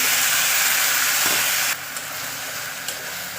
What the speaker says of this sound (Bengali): এবার এটা আদা রসুনের পেস্ট